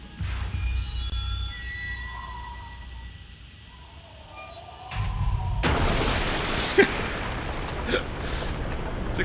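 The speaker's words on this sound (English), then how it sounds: "It's like this giant explosion right away." A giant explosion in the Zork Nemesis video game intro erupts midway as a sudden loud roaring blast after quieter eerie tones, followed by sustained rumbling with a few sharper cracks.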